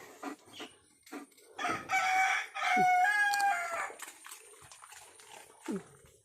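A rooster crows loudly nearby, with clucking and a few short barks or calls around it.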